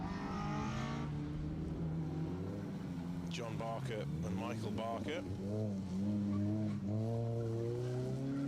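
An R50 Mini rally car on a stage of a circuit rally gives off a droning, shifting engine note that sits under a commentator's continuous talk.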